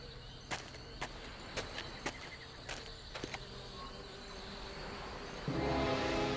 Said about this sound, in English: There are bees buzzing around all over the place